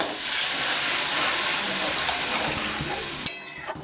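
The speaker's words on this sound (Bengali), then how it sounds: "এবার আমি নারকেলের দুধ দিয়ে দিলাম" Coconut milk hitting a hot pan of kofta gravy gives a loud, steady sizzle and hiss that fades slightly near the end, followed by a couple of sharp clinks of a utensil against the pan.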